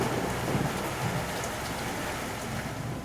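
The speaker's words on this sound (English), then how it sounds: "Lightning flashed across the sky, followed by deep rolling thunder that shook the walls." A thunderstorm with heavy rain pouring steadily on surfaces, dense hiss and patter throughout with low thunder rumbling underneath, loud and continuous with no voices.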